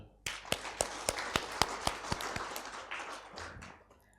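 Applause breaks out at a peace campaign declaration for regent and vice-regent candidates in Toraja, with sharp, loud claps landing at a slow, uneven pace over steady room noise before the clapping thins out.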